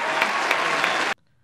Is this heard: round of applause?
yes